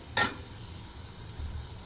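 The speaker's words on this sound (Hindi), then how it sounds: "ये देखिए, हम मीडियम आंच पर इसको चलाएंगे" A spoon scrapes once through masala cooking in ghee over medium heat, a brief clink followed by a low, steady sizzle of frying in the pan.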